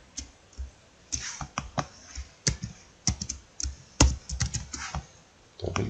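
Typing on a computer keyboard produces close, irregular bursts of key clicks with short pauses between runs, some strokes louder and heavier than others.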